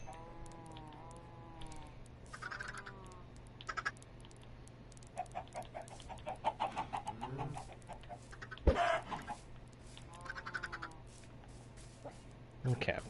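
Minecraft chickens cluck in short scattered bursts across a game scene, with faint background sounds and a sharp click partway through; the clucks are moderately loud and come and go irregularly.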